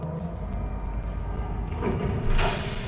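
Train in the Resident Evil 2 video game on PlayStation: a steady loud low rumble with a sustained hiss that swells brighter near the end, alone without talk.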